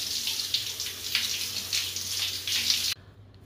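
Yam being rinsed under a running kitchen tap, a steady close hiss of flowing water with splashing surges, stopping abruptly near the end.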